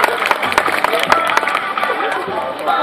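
An audience claps and cheers after a Thai air force security troops' rifle-twirling drill display. The applause is dense and steady, with crowd noise and voices mixed through it.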